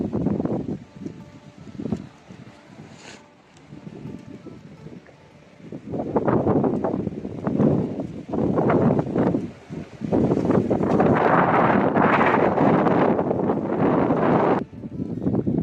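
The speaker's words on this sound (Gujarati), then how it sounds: "અતિશય વધારે પવન છે." Strong, gusty wind in Abu Dhabi blowing sand, roaring and buffeting the microphone in surges, with rustling trees and flapping in the background, rising louder through the second half.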